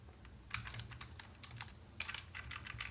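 Short bursts of quiet typing on a computer keyboard, light key clicks in two small clusters, close but faint, with no voices.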